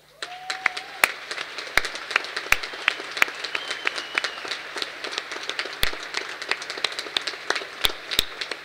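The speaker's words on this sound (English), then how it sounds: "acknowledge the support with a hearty round of applause" An audience at a graduation ceremony for arts, social sciences, agriscience and law graduates claps in a sustained round of applause, with sharp individual claps standing out over a steady wash of hand-clapping and a faint tone in the background.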